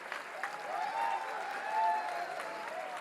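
A live comedy-show audience claps in a steady, dense wash of applause that swells slightly midway, with indistinct crowd voices and whistles mixed in.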